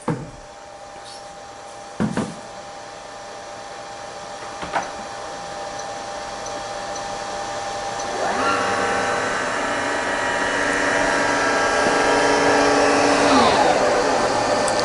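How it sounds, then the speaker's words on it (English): High-pressure pump in a density and viscosity HPHT test rig running up to 750 bar, a steady whine rising gradually in pitch as pressure builds, with a few clicks early on. "Currently I have the pump in running mode, so I can change the pressure on the fly."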